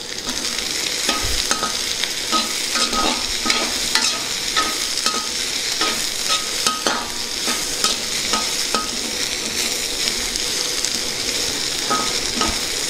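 Tempering spices, including peppercorns, sizzling in a pan in a home kitchen, with a steady loud frying hiss and frequent light stirring clicks throughout, no voices.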